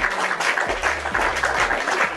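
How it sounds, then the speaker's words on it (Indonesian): An audience in a religious debate setting claps in a brief, busy burst of applause, fairly close and loud, with low rumble underneath and no distinct speech. "tepuk tangan."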